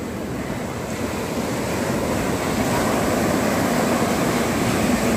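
Sea waves surge and wash continuously at ECR beach in Chennai, a loud, close roar of surf that builds slightly and is mixed with wind buffeting the microphone.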